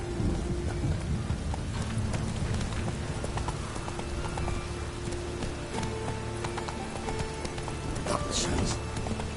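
Hooves of the horse Roach gallop through a rainstorm with distant thunder in The Witcher 3, a steady loud clatter under rain with a voice speaking over it.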